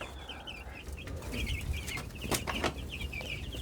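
Meat chickens cluck in a brooder with repeated soft clucks and chirps at close range, joined by scattered rustling and brief wing flaps, fairly quiet overall.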